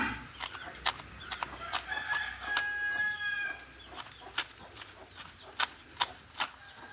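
A rooster crows in a quiet rural setting, the call faint and somewhat distant, mixed with scattered sharp clicks and taps throughout.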